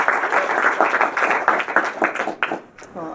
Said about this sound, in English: Give you a little welcome round of applause.